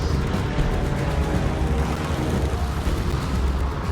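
Explosions from a torpedo bomber attack on enemy ships in a WW2 aircraft carrier strategy game rumble continuously, a dense, loud roar of blasts with no clear pauses and no voices.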